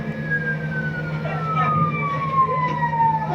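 An ambulance siren wails at a moderate distance, its tone gliding slowly downward over a low rumbling vehicle background.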